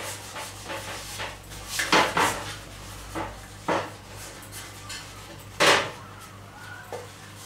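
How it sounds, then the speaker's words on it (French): Butter is worked into a cake tin with soft rubbing and scraping strokes that come in irregular bursts, a few sharper swipes standing out against a quiet kitchen background. "On va beurrer un moule à cake."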